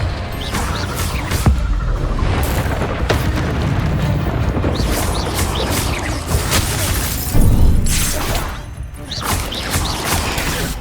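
Confringo fire spells burst repeatedly in Hogwarts Legacy, loud booms and crashes in quick succession with clattering impacts, dense and close throughout.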